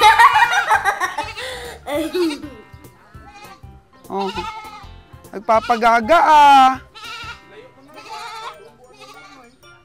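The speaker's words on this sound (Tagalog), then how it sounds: "ang mga kambing po na to, ang babata" Young goats bleat in short, wavering cries, loud and close, mixed with people talking and laughing nearby.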